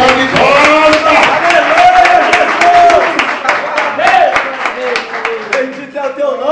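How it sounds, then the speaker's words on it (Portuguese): Church congregation clapping rhythmically in steady fast beats throughout, loud and close, with singing or chanting voices over the claps. "Palmas para Jesus"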